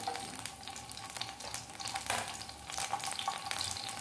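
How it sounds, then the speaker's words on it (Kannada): Green chillies and ginger garlic paste fry in a pan for masala macaroni, a continuous crackling sizzle at moderate level with no speech. "ಸ್ವಲ್ಪ ಫ್ರೈ ಆಗಲಿ"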